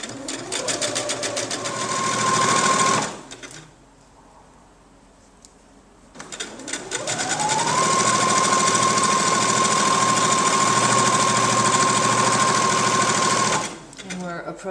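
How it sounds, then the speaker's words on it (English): A sewing machine stitches along the folded edge of a fabric party napkin, running loud and steady for about three seconds, pausing briefly, then whirring again at a steady pace for about seven seconds before stopping. "I sew 1 or 2 stitches into this fold, and then I turn the corner"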